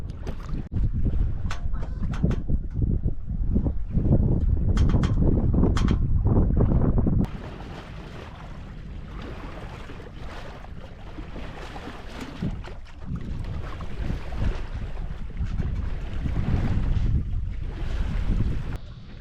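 A sailboat sailed solo into a headwind on the way to the North Channel, with loud steady wind rushing over the microphone and water washing against the hull, easing briefly partway through before building again; no voices.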